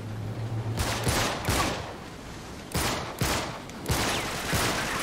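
An enemy in Uncharted 3 lets off repeated bursts of gunfire, a loud, near, crackling fusillade arriving in several clusters over a steady noisy background.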